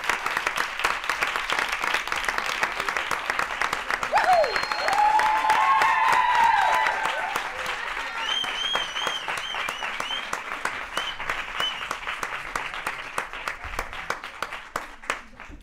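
A studio audience at a late-night Spanish television show claps steadily for about fifteen seconds, a dense, continuous wash of applause with a few brief shouts and cheers rising over it.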